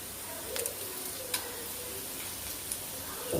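Dried red chillies crackling in hot oil, a soft continuous sizzle with a few brief ticks and pops, close but fairly quiet and without talk.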